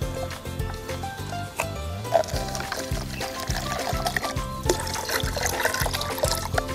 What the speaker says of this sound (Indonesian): sekarang kita campurkan E4 ini sebanyak 400 ml ke ember yang sudah terisi air